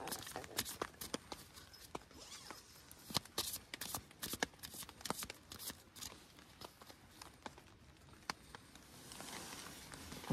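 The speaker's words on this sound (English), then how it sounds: "I'm gonna shuffle them again." A deck of playing cards is shuffled outdoors at a campsite with a series of quick, crisp riffles and snaps in irregular bursts, close and fairly quiet.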